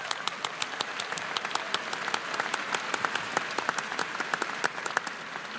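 An audience applauding President Sands at a live news event, with dense, sustained clapping from a sizable crowd that holds steady and fairly close throughout, no speech over it.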